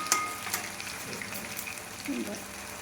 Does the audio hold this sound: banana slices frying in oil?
yes